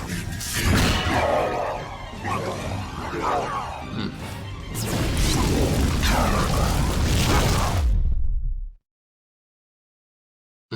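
Loud, heavy cannon blasts roar and rumble almost continuously, a deep, crashing barrage that cuts off abruptly into silence.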